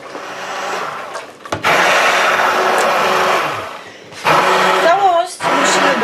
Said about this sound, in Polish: w tym momencie wyłączamy i całość blendujemy